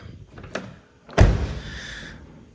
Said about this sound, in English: So now the door shuts like a boss.